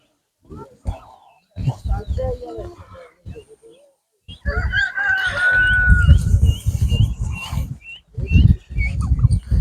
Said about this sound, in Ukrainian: Так, є індики.